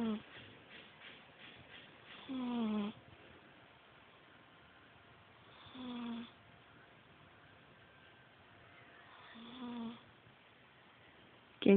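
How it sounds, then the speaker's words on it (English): A sleeping domestic cat snoring softly, with three faint, drawn-out breaths spaced several seconds apart over a quiet background hiss. "Can you hear her snoring?"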